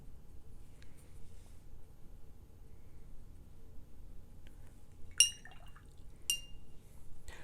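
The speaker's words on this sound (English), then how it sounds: "So sorry for the clinking." A paintbrush clinks against a glass water jar during watercolour painting, giving two or three sharp, bright taps in an otherwise quiet room.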